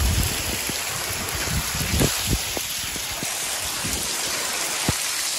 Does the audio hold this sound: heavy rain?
yes